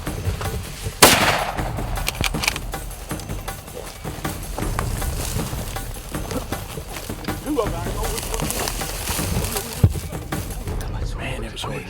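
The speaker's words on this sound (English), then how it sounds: "You just shot a buffalo." A rifle shot fires at a Cape buffalo during a hunt in Tanzania, one sharp crack near the start followed by a fainter bang later, with voices talking throughout over rustling outdoor background.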